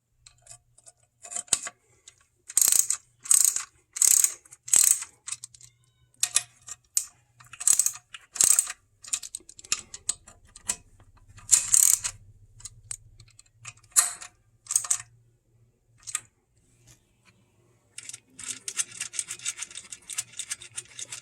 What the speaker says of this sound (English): now I'm going to go ahead and tighten these bolts